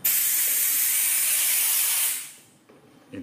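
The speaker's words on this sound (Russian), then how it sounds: "аппарат, который моет... Паром. Паром. Нагревает воду," A steam cleaner blasts a loud, steady hiss of pressurised vapour onto tile grout, holding constant for about two seconds before tailing off into quieter sputtering, with no voices.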